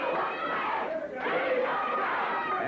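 Wrestling arena crowd in Georgia chants loudly and steadily in rhythm, a dense roar of many voices filling the space, dipping briefly before surging back with a fan chant demanding the mask.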